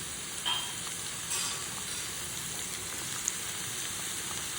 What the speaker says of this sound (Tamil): வெங்காயம் லைட்டாக வதங்கினதும் நம்ம கட் பண்ணி வச்சுருக்கிற புடலங்காவை இதில் சேர்த்துடலாம்.